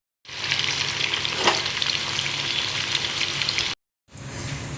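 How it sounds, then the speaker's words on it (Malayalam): Chicken pieces deep frying in hot oil for restaurant-style butter chicken give a steady, loud, close sizzle and crackle, continuous apart from a brief break near the end, with no voices. "അങ്ങനെ എല്ലാ ചിക്കനും നമ്മൾ വറുത്ത് കോരുക."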